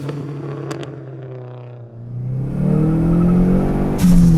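Neon SRT-4 with a manual gearbox accelerating hard near the top of second gear with wheel spin, a loud engine note climbing steadily in pitch while tyres whir, then a sharp change near the end.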